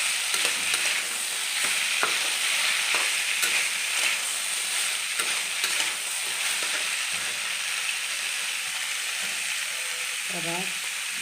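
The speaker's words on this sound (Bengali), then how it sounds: "দিয়ে ভালো করে আমি মশলাটা মিক্স করে নেব" Spices being stirred as they fry in a pan while cooking banana stem, a steady close sizzle with scraping stir strokes and a few clicks, running throughout without voices.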